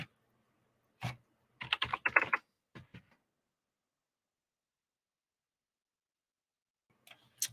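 Short clusters of computer keyboard keystrokes, with a brief burst around the one-to-three-second mark and another near the end, separated by a long quiet gap; no voices.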